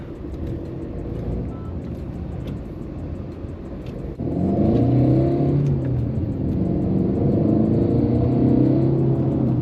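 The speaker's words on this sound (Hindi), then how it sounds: "जो डीजल इंजन है ना वो साउंड थोड़ा प्रोड्यूस करने लग जाता है।" A Tata Nexon diesel engine rumbles steadily, then revs up louder around the middle and keeps pulling with a rising, droning roar; no talking.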